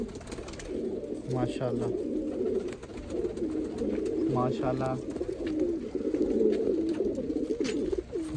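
Pigeons of the dab wali Kasori breed coo repeatedly close by, with soft chirps over a steady bird hum while someone speaks briefly.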